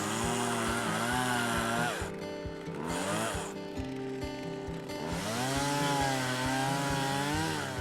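A chainsaw roars steadily, its engine pitch rising and falling as it cuts through thick lake ice, with brief lulls between revs.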